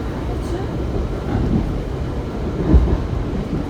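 Steady low rumble of a Kawasaki-built metro train riding toward Navy Yard, continuous rolling noise from inside the car with a brief thump, loud and close.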